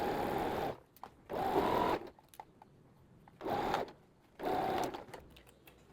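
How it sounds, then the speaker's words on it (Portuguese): Sewing machine running a pocket seam in bursts, four distinct stretches of fast, steady stitching separated by short pauses, close and fairly loud. "vamos costurar aqui o nosso bolsinho"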